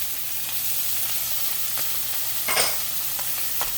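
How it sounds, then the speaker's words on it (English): Ingredients for doctored instant ramen sauté in real butter in a pan, giving a steady, soft sizzle with occasional brief stirring scrapes and no voices. "we're going to saute them in butter"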